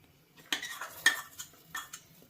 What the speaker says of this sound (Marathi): हलवत राहायचं सारखं दोन मिनिटानंतर एक घट्ट व्हायला सुरू होईल